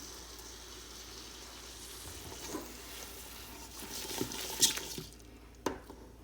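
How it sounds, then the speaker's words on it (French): Chickpeas and celery stalks tumble into a pot of meat and spices, giving a faint, steady sizzle with a few soft clinks and splashes near the end. "Je rajoute les pois chiches, les tiges de céleri"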